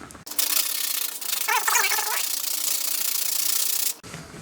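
Steady scratchy rubbing of sandpaper on a guitar nut, close and continuous for several seconds before stopping abruptly.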